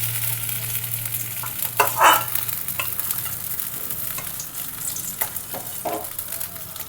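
Rohu fish heads fry in hot oil with a loud, steady sizzle up close, broken by a few scraping turns of a spatula.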